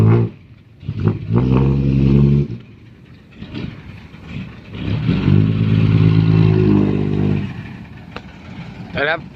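A manual-gear vehicle engine revs up twice in strong, rising bursts, loud and close, with quieter idling between them and people talking over it.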